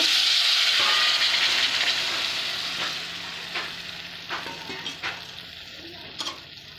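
Bottle gourd curry sautéing in hot oil, a broad steady sizzle that slowly fades, broken by several soft stirring scrapes and taps toward the end; no talking.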